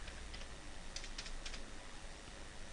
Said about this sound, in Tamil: இந்த வேல்யூ ஃபுல்லாக நான் வந்து டைப் பண்ணுறேன்.